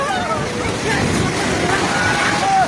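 A river in flood in Nepal rushes loudly and steadily, a broad roaring wash with wind buffeting the microphone, and voices talk over it throughout.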